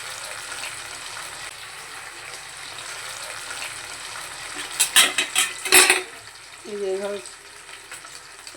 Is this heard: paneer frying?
yes